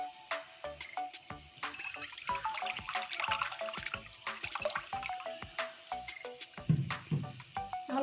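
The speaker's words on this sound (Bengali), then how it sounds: "এই জলটা আমি দিয়ে দিচ্ছি" Water goes into a cooking pan of potato and soybean curry, splashing and hissing over the sizzling contents, with clinks of a utensil at close range.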